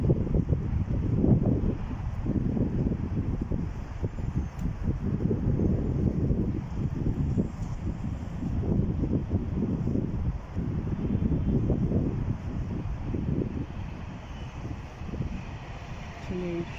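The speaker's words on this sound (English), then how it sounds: "Well, it's fairly windy tonight." Steady wind at a night-time railway station, a constant low, moderately loud blustery rumble lasting throughout with no clear pauses.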